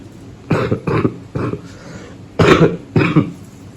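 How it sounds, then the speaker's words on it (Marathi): Several harsh, sick-sounding coughs come close to the mic in short bursts, two spaced pairs followed by a heavier double cough, with quiet room background between them. "खोकला इथला."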